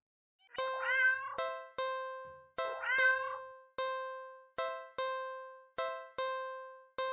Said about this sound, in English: The cat lets out a sad, pleading little sound.